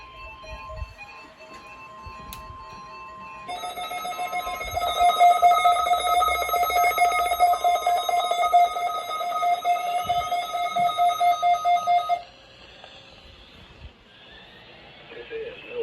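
NOAA Weather Radio plays its required weekly EAS test, with tones sounding together in a loud, steady, pulsing run of about nine seconds that stops abruptly, framed by quieter radio noise.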